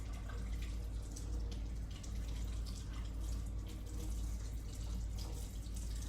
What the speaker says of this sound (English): I will then go ahead and rinse my hands.